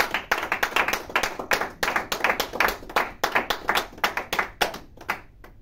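Church congregation clapping hands together in worship, a steady rhythmic run of sharp, fairly loud claps repeating for several seconds and tapering off near the end.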